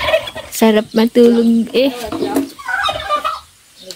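A turkey gobbles in rapid bursts up close, with other fowl nearby and a person speaking briefly alongside.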